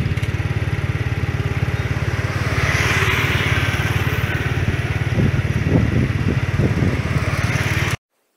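Motorbike engines drone steadily on a busy Hanoi street, a continuous close hum of several bikes passing, with a few brief horn-like honks near the end before the sound cuts off abruptly.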